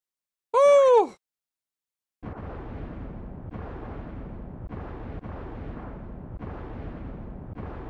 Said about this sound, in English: I don't know why it's exploding,